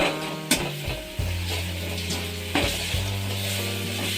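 Chopped onions frying until brown for a chicken gravy make a steady sizzle, with occasional knocks of a stirring spoon against the pan and a faint tonal hum underneath.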